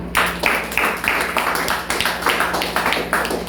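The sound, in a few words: congregation clapping hands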